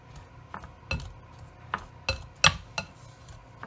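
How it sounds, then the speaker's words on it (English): A pastry cutter clinks and scrapes in a bowl while working butter into scone dough, with a handful of sharp metallic taps and scrapes spaced irregularly, close up with no talking. "Just going to scrape off my pastry cutter, sometimes you get butter stuck up in there, and give it a little stir here"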